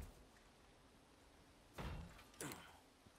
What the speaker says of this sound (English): I heard a creak.